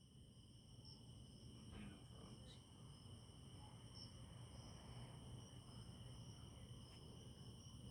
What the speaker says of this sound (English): you got frogs and everything else chirping around here.